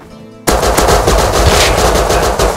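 Automatic AK rifle fire in the survival game Rust: a loud, sustained burst of rapid shots that starts abruptly and keeps going nearly unbroken for over two seconds, close and dominant.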